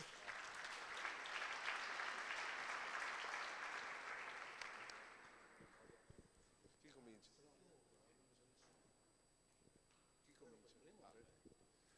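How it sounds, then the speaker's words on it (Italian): Applause from an audience at an environmental award ceremony in Veneto, loud for about five seconds and then fading, followed by someone speaking over quiet room noise. "per cui c'è un ulteriore applauso"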